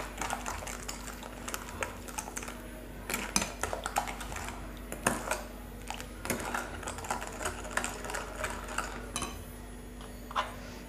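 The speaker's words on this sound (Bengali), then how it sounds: "এই কাঁটা চামচ দিয়ে নেড়ে সব কিছু মিশিয়ে নিলাম" A fork stirs and mixes coconut cake batter ingredients in a bowl, a quick run of close, rapid tapping clicks with occasional louder knocks against the bowl, alone without speech.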